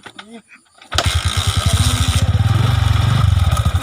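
After a brief moment of speech, a motorcycle engine cranks and catches, settling into a loud, rapid, close putter that continues to the end.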